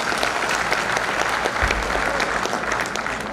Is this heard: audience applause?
yes